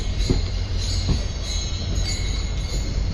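At Madurai Junction the diesel-hauled Meenakshi Express grinds along with a continuous rumble, high thin wheel squeals ringing over it and a few dull knocks from the wheels.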